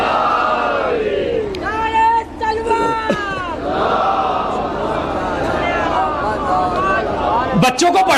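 A large crowd chants together at a religious gathering, a loud, sustained wash of many voices calling out in unison with rising and falling phrases.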